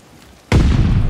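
A grenade goes off in a video game: after a quiet stretch, a sudden loud, close blast hits and is followed by a heavy, rumbling roar that holds to the end.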